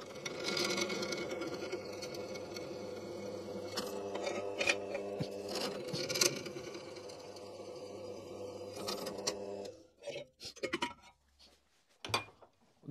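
A drill bores into wood to seat threaded inserts for a homemade knifemaker's vise, with a loud, steady motor whine for about ten seconds followed by a few short bursts.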